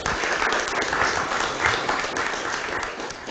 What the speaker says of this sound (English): So a round of applause for them for all their hard work.